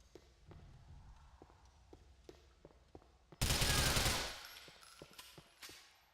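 A loud burst of automatic gunfire in the video game Grand Theft Auto 4, final mission The Fall of Pegorino, bursting out over quieter ambient footsteps and scattered clicks before fading back down.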